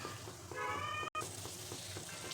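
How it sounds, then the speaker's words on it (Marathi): Cashews frying in hot oil in a kitchen while making crispy fried poha chivda, a steady close sizzle with soft bubbling and crackle, fairly quiet, with a brief tonal squeak partway through. "आता एक काजू टाकायचे काजू पण लवकर तळतात"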